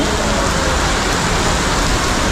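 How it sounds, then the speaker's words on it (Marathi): Heavy rain pours down in a dense, constant roar of drops, loud and unbroken from start to finish, with no voices. "जोरदार खूप चालू आहे पाऊस"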